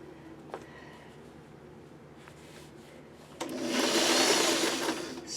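A sewing machine stitches fuzzy fabric, staying quiet with a few clicks before starting up into a louder steady whir for the last two seconds, close and with no talk.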